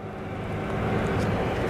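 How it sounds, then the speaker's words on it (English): A Helvetic Embraer airliner taxis out at Zurich Kloten Airport, a steady distant engine rumble and whine, with an R44 helicopter starting up faintly in the background and wind buffeting the microphone. "got a Helvetic Embraer taxiing out, R44 cranking up as well in the background"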